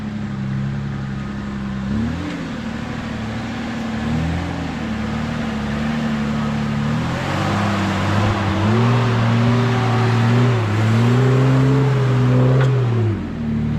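A 4x4 off-road vehicle's engine revs repeatedly on a trail, its pitch rising and falling in several surges over a steady broadband rumble, loud and close with no talk.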